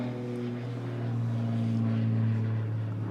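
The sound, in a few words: airplane passing overhead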